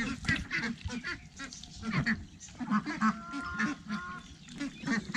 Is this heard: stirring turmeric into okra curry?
no